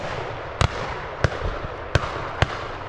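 Shotgun shots at a pheasant shoot on a farm, four sharp reports spaced about half a second apart, each a brief crack over steady outdoor background noise.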